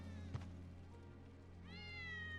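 A cat in the game Final Fantasy VII Remake, one of Wedge's cats, gives a single drawn-out meow near the end, heard close and fairly clear over a quiet game ambience.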